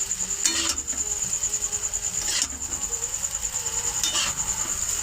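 Chow mein sizzling and frying in a pan as it is stirred, a steady bright sizzle with a few scraping, clinking stirs of the utensil against the pan, close and continuous.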